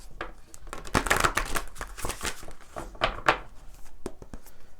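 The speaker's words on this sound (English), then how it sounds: "One more shuffle." Tarot cards riffle and slap together in quick crackling bursts, close by and fairly soft, with no talking.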